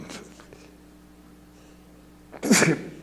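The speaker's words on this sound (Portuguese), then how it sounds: "é o espirro mal educado" A single sharp sneeze bursts out near the end after a few seconds of quiet room noise.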